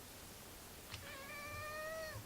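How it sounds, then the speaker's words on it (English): A pet cat meows once indoors, a soft drawn-out call with a rising then falling tone, fairly close and alone against a quiet room. "Oh, my cat just came in."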